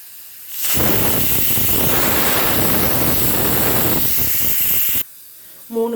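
A pressure cooker cooking siru keerai paruppu kadayal vents steam in one loud, steady, close hiss lasting about four seconds, then cuts off sharply and is followed by a short softer burst.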